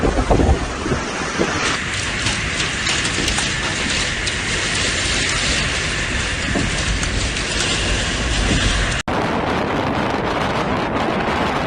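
Loud, continuous roar of strong Storm Dudley wind buffeting the microphone, rushing and gusting without pause, with a brief cut partway through.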